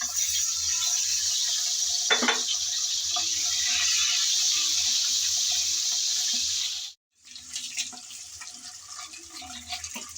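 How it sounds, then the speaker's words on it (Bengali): Eggs hit hot oil in a pan and sizzle with a loud, bright, continuous hiss. The sizzle breaks off abruptly for a moment, then resumes with softer crackles and stirring clatter. "তেল গরম হয়ে গেল, এখন দিয়ে দেব ডিমগুলো"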